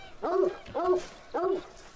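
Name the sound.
hunting dog barking happily in a hunting video game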